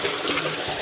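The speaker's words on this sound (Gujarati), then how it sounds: "પાણી આવી ગયો" Water pouring into a household tank gives a brief, steady rushing hiss, fairly quiet and unbroken.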